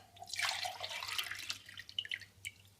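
A glass of plain water is poured into a wok, a soft splashing gush that swells briefly and trails off into a few drips and trickles, quiet and close with no voices.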